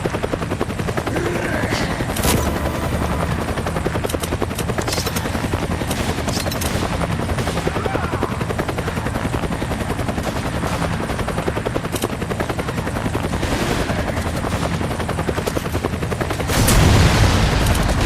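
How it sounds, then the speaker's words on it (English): Helicopter rotor drone runs steadily throughout with scattered bursts of gunfire on a ship's bow deck in the Resident Evil 5 video game, growing louder near the end. "I can hear gunfire."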